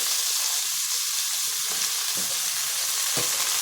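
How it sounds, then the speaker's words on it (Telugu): Thinly sliced black brinjal pieces fry in hot oil with a dense, bright, unbroken sizzle up close, broken by a couple of soft thuds from stirring, and no voices. "వంకాయ ముక్కలను కూడా కొద్దిసేపు ఈ ఆయిల్లో మగ్గనిద్దాము"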